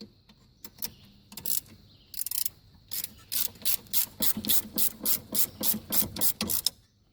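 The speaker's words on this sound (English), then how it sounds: "use the open end first, and then use the ratcheting wrench part to take it out the rest of the way" A ratcheting wrench loosens a caliper bolt on a Subaru front brake, giving steady rapid clicking bursts that run in a quickening rhythm, close and fairly loud, with a few scrapes before them and no talking.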